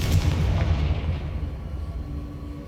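A Confringo fire spell from the Hogwarts Legacy video game lets off a loud, close blast that rolls into a rumbling boom and slowly fades, with no talking.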